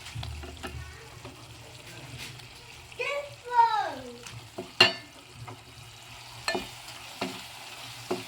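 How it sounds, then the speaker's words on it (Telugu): Tomato frying in a pan of masala for a prawn and brinjal curry: a soft, steady sizzle with a few stirring scrapes and knocks, while a voice chirps briefly partway through. "ఇది కొంచెం ఫ్రై అవ్వాలి ఇందులోనే టమాటో కూడా వేసేసుకున్నాను"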